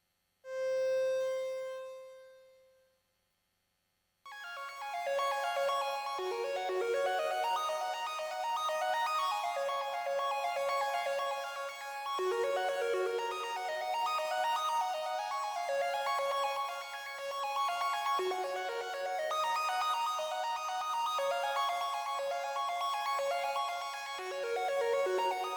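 Synth lead from a PGB-1 synthesizer's lead track cycling through arpeggiator modes: a brief held tone, a short pause, then continuous rapid bright arpeggiated notes running steadily at moderate loudness.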